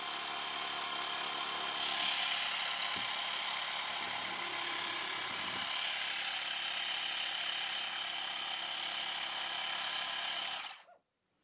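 A model steam engine runs on compressed air fed from a portable compressor, giving a steady, fast hissing chuff with a mechanical drone throughout before stopping abruptly at the end.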